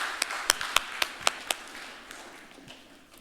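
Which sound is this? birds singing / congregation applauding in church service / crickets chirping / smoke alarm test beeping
congregation applauding in church service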